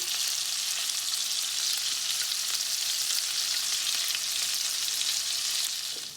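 Scallops sear in a hot pan with a loud, continuous, close crackling sizzle that holds steady before easing off at the very end.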